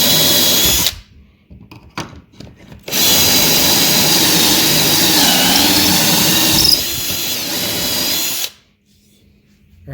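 A power drill drives into the wooden framing of a DIY bike shed. It runs loud and close in long continuous whirs, with a short break of stops and starts after the first burst.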